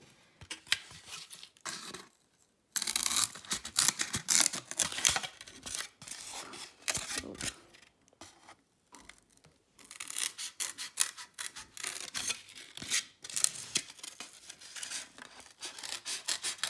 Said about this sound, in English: I'm going to take this little piece of styrofoam and I'm going to cut a shape